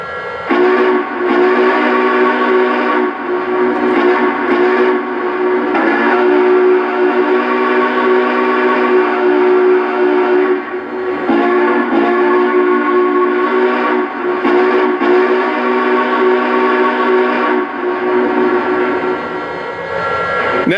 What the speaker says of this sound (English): first up, let's check out the whistle